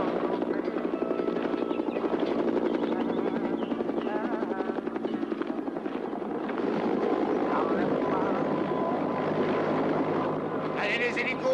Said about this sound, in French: Allez les hélicos, ils arrivent